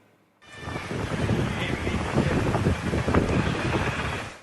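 A dust storm sweeps through Mumbai, its strong wind roaring in a continuous, loud, rough rush with buffeting on the microphone, rising abruptly after a brief quiet start.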